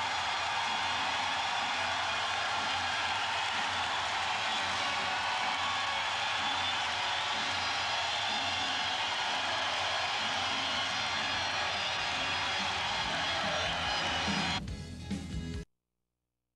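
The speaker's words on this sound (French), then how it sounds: "Et la foule est en délire." A hockey crowd in an arena roars after a goal, a dense, loud and sustained wall of cheering that holds steady for about fifteen seconds before cutting off abruptly.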